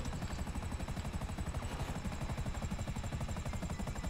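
A steady, fast chopping of helicopter rotor blades with engine drone in Grand Theft Auto V, continuous and fairly loud throughout.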